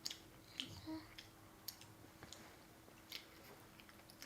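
Someone chewing braised pig skin, with soft sticky bites and occasional crisp clicks spread out at close range in a quiet room, with no talking.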